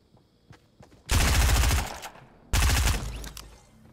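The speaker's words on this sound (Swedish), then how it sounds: "det är ju väldigt många skott på väldigt liten tid" Automatic gunfire from the Fortnite video game erupts in two loud, dense bursts of rapid shots, the first longer and the second after a brief pause, against a quiet background.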